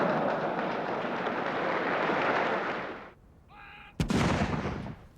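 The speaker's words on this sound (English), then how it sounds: "A 21-gun salute in Hyde Park to celebrate Prince Philip's 70th birthday" Artillery fires a 21-gun salute in Hyde Park for a royal birthday, a booming blast that rolls and decays for several seconds, then another sharp loud report, distant yet powerful and open-air.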